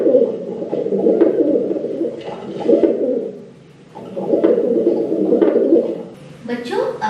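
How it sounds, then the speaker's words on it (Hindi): Low, throaty pigeon cooing in rolling repeated phrases, close and loud, with short pauses between bouts. "बच्चों यहाँ देखिए कबूतर कैसी आवाजें निकाल रहा है"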